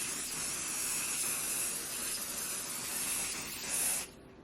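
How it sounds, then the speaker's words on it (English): Apple Garde protectant is sprayed onto the Louis Vuitton vachetta leather of a Speedy 25 bag in a continuous close aerosol hiss lasting about four seconds, then it stops abruptly. "And so I'm just going to spray a little bit."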